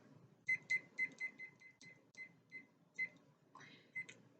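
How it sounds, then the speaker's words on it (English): Kitchen timer being set for ten minutes, a quick series of high, thin button beeps in an irregular rhythm, close and fairly quiet, with a few faster chirps near the end. "Now I'm going to set my trusty timer for 10 minutes."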